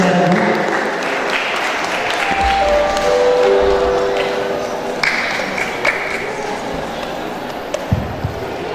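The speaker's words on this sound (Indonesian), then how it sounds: "Beri tepuk tangan untuk ketiga lagu." Audience applause at a school quiz competition semifinal, a steady wash of clapping that holds for several seconds and then thins out, with a few louder individual claps near the end.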